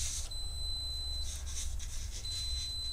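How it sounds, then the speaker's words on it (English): Electronic beeping alarm from a homemade DIY LED lightbox project, sounding as a thin high-pitched steady tone that holds for about a second, stops, then returns briefly near the end over a low background hum. "That is the Mario alarm to tell me that Marios have been created. Every time it beeps"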